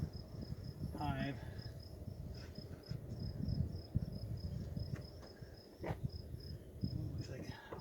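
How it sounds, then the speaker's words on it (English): Honeybees buzz at an open hive during an inspection, some fanning on the lid, with a faint close drone, a high steady insect tone and a person speaking at intervals. "These ones are just buzzing away over here on the lid as if they're fanning the"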